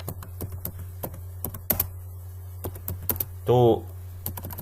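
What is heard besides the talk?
typing text on a computer keyboard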